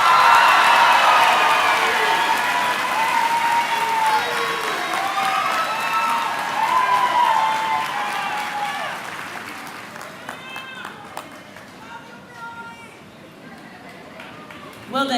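An audience at a high school graduation ceremony gives sustained applause and some cheering for graduating students, loud at first and slowly fading, with a few scattered claps and a sharp sound at the very end.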